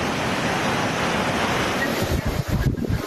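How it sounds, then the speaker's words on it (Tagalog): Strong wind roars steadily with heavy waves churning on the coast at Dinapigue, Isabela, ahead of Typhoon Betty; a continuous loud rushing fills the clip, with deeper surging gusts near the end. "ramdam na ang pagbayo ng hangin at malalaki na rin ang alon"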